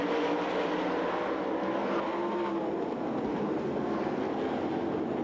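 Race cars roar around Knoxville Raceway's dirt speedway in a steady, dense engine drone that stays at an even level throughout, with no voices heard.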